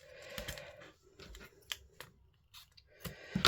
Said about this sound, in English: I'm using my old big scissors because I don't like the glue off the tapes getting stuck on my scissors.